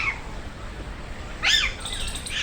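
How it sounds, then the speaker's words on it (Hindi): Alexandrine parakeets at Chhatbir Zoo give a few short, harsh chirping calls over steady background noise, with one louder burst midway and another near the end. "ये पैराकीट अलेक्जेंड्रिन है। ये अलग किस्म के तोते हैं।"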